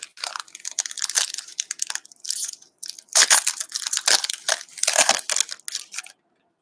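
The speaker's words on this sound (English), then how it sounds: "These packs are a pain in the ass to open." Upper Deck Credentials hockey card packs are torn and crinkled open by hand, with bursts of sharp foil crackling and crunching up close, separated by short pauses and ending in silence.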